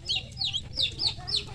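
Chickens, including a young chick, give a run of five quick, high chirping clucks in an even rhythm, close and clear over a low background hum.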